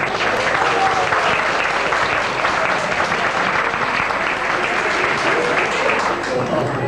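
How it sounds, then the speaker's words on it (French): A hall audience at an evening association gathering applauds steadily and densely, a continuous wash of clapping at even loudness throughout. "je voudrais qu'on les applaudisse pour les remercier de leur fidélité"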